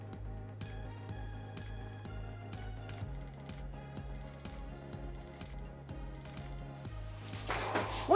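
A kitchen timer goes off for baking cinnamon rolls, repeated electronic beeps in quick rhythmic bursts over a steady background hum, ending with a short louder rustle.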